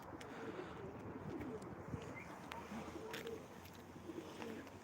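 Pigeons coo softly at a loft of competition birds, with low repeated coos and faint chirps under steady outdoor background noise.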